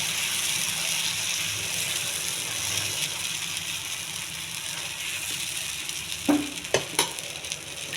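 Millet and whole moong dal pesarattu batter sizzling on a lightly oiled griddle pan, a steady close hiss throughout, with a few sharp utensil clicks near the end.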